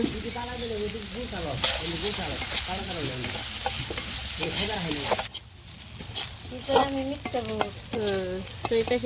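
Onions fry and sizzle in a pan on a village kitchen stove, with steady stirring and scraping throughout and a person talking over the cooking.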